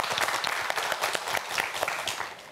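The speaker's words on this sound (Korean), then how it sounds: "우리 이태규 학생을 위해서도 큰 박수 부탁드립니다." A studio audience on a science quiz show claps for a student contestant, a brisk burst of many hands with sharp individual claps standing out, steady and moderately loud throughout.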